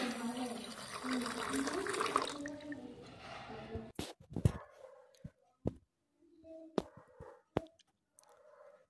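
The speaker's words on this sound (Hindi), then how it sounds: "अब इसमें पानी ऐड कर लेते हैं पानी ऐड कर कर ढक कर रख देते हैं फूलने के लिए" Water is poured from above onto washed raw rice in a bowl, a rushing splash that goes on for several seconds, then scattered drips and small sloshes, close to the microphone.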